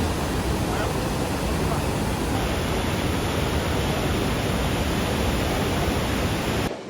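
Iguazu Falls, seen from the Brazilian side in Iguaçu National Park, pours water down a sloping drop, producing a dense, unbroken roar of rushing water that holds steady and loud for the whole stretch.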